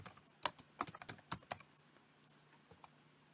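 Rapid keystrokes clatter on a computer keyboard during a stats chart-building session, a quick burst of sharp clicks ending in one firmer press of the enter key, close and clear, then a few scattered taps in a quiet room.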